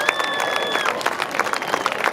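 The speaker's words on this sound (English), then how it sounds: "keep the applause going as they land" An airshow crowd at Sunderland applauds as the RAF Falcons parachute team lands, scattered clapping from a distance under steady outdoor noise, with a faint tone and voices in the background.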